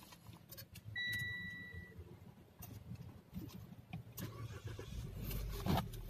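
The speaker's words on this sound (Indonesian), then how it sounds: "kemudian teman-teman menyalakan mesin" A car engine being started with the air conditioning left on, preceded by faint clicks and a brief electronic beep, then the starter cranking and catching near the end, fairly quiet overall.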